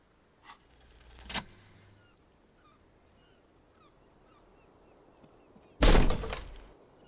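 A small, heavy wooden door cracking in the video game Disco Elysium: two sharp, loud cracking bursts, a short rattling crack early on and a heavier splintering crash near the end, with quiet hiss in between.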